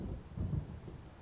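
Low, faint rolling thunder from a storm coming in over the water in the video game Alan Wake, a soft distant rumble that swells briefly and then fades.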